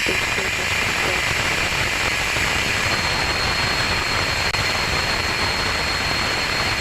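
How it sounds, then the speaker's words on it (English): Rocket Lab Electron second-stage Rutherford engine starting up after stage separation: a steady, loud broadband roar with hissy static-like texture, continuous throughout with no voices. "That is a healthy Rutherford engine startup on the second stage now that we are clear of first stage MECO and stage separation."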